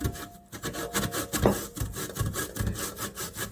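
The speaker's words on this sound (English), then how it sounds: "Nice cassava. Now I'm gonna just grate it." Raw cassava is rubbed against a grater for dumplings, a continuous rasping scrape in quick back-and-forth strokes, close and fairly loud, with no talking.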